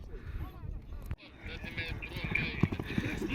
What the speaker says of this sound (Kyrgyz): Укмуш күлүк ат экен